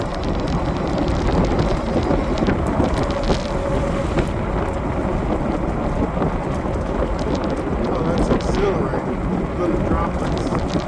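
Rain falling during a ride on a powerful e-bike, a dense continuous hiss of drops with wind-like rumble throughout, fairly loud, with faint voices mixed in.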